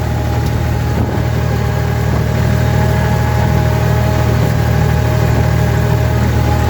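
Tractor engine running loud and steady while spreading manure with a tandem spreader after winter barley, a deep continuous mechanical drone with a faint whine and no talk.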